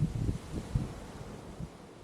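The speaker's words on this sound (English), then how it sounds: "Man, it's getting windy." Gusting wind buffets the microphone outdoors in Florida during hurricane chasing, a steady low rumbling roar with soft rustling and no talk.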